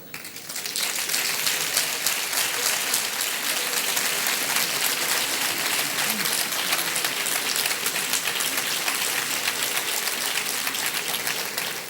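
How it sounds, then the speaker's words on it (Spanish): An audience applauds during a lecture at a congress in a hall, with steady, dense clapping that holds at an even level throughout and no talking over it. "Me alegra mucho que aplaudan"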